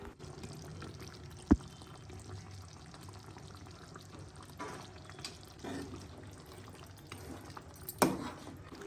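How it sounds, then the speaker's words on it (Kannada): Water poured into a simmering Andhra-style chilli chicken gravy in a pan, a faint, low splashing wash with a couple of sharp clicks, no voices. "ಸ್ವಲ್ಪ ನೀರು ಆ್ಯಡ್ ಮಾಡಿಕೊಂಡು ಚೆನ್ನಾಗಿ ಬೇಯಿಸ್ಕೊಳ್ಳಿ"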